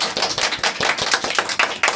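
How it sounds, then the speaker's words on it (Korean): Audience applause at a high school student council election debate, dense continuous clapping from a crowd filling the whole stretch, close and loud with no talking over it. "박수 주세요."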